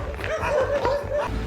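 Dogs in Turkey bark and yip in short bursts at close range, with whining tones between the barks.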